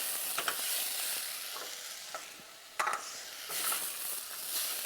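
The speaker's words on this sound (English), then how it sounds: "Keep stirring" Rice, ginger and mushrooms stirred in a hot pan, a steady sizzle with scattered scraping spoon strokes and a sharper clatter near the middle, close and alone with no talk.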